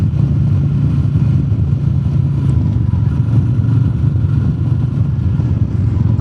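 A Royal Enfield Meteor 350 motorcycle fitted with a FuelX Pro module runs with a loud, steady low thrum, smooth and constant throughout with no speech over it.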